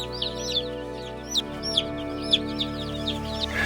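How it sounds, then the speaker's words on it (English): Baby chicks in a crowded brooder holding 27 birds, with an emu nearby, chirping in high, rapid peeps over a steady low hum, several close chirps spaced across the moment. "Now we've got 27 chicks in here"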